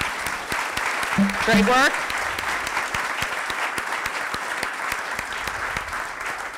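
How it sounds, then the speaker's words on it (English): Audience applause fills the hall at a public talk, steady dense clapping throughout, with a voice briefly speaking over it near the start. "I wanna give a round of applause"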